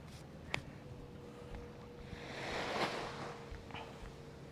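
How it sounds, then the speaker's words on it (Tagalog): Sea waves on the beach at El Nido, Palawan, a faint soft wash of surf swelling gently mid-way amid light wind, with no talking. "Tingnan nyo yung dagat."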